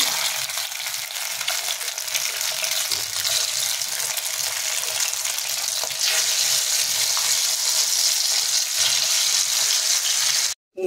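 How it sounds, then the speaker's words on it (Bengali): Steady, loud sizzling of marinated chicken pieces frying in hot oil, a dense crackling hiss with no talk, cutting off abruptly at the end. "কমিয়ে দিয়ে মাংসের টুকরোগুলোকে তেলের মধ্যে ছেড়ে দিচ্ছি"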